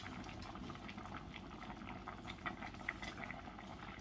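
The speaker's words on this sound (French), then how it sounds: "Dès que vous avez l'ébullition, vous baissez le feu à moyen." A pot of liquid for chicken blanquette boiling on a stove, giving a faint, steady bubbling with small pops and gurgles throughout, close and quiet, no voices.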